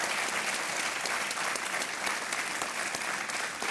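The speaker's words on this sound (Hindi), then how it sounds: "तालियां बजती रहें प्रेमी और सज्जनों।" Studio audience on a television quiz show bursts into sustained, even applause, a thick wash of clapping that holds steady from start to end with no voices.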